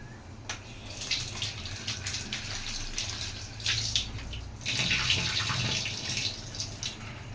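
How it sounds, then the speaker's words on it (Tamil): Cut vegetables being rinsed in water while cooking sambar and carrot poriyal, a steady running-water splash and slosh close by, continuous for the whole stretch and swelling louder toward the end. "இப்போ லைட்டாக இதை அலசி எடுத்துக்கிறேன்."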